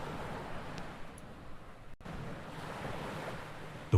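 Calm sea waves in the video game Dagon, a steady soft wash of surf with light wind, broad and even throughout with a brief dip midway, no voices.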